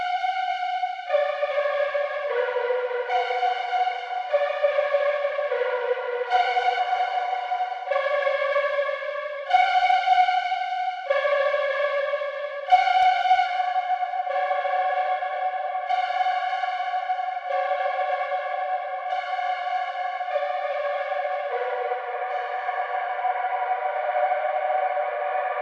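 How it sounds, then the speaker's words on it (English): String preset with the Particles effect on, playing slow overlapping sustained tones in a stepping melodic pattern, shimmering and echoing, with no voices. "Let's see what it sounds like with the Particles on."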